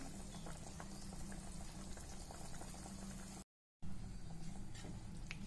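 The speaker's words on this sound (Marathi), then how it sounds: "5 मिनिटं चांगली भाजी उकळू देऊया आपण." A pot of cauliflower curry boils steadily, with a dense, continuous bubbling close by that breaks off for a brief moment before resuming.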